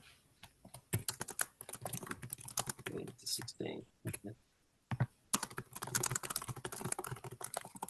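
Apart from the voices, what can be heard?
someone typing fast on a computer keyboard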